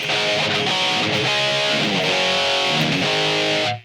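Heavily distorted electric guitar through a Boss eBand JS-10 tone patch plays dense, sustained chords and riffs at high volume, then cuts off abruptly at the end.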